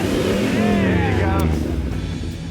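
A truck's GM Performance ZZ4 V8 engine with fuel injection roars loudly and steadily up close, its pitch sweeping up and settling as it revs, with voices talking over it.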